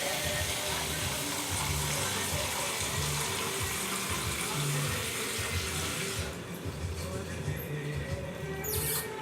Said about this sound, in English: I'm gonna pour the water in there next.